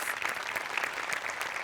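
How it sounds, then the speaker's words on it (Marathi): An audience at a Hasya Jatra comedy show applauds, giving a steady patter of many hands that stays even and moderately loud for the whole short stretch, with no voices on top. "याच्यासाठी तुमच्यासाठी टाळ्या वाजल्या पाहिजे"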